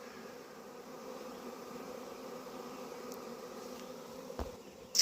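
A steady, dense buzzing drone of a swarming honeybee colony holds throughout, continuous and even, with a faint click near the end.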